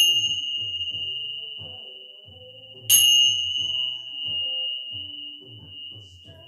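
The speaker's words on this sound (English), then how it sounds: "Let your mind, your body, and your soul absorb the vibrations of the bells" Bells ring at the close of a hatha yoga session, a sustained clear metallic tone that hangs steadily throughout, with a brighter strike near the middle, under soft background tones.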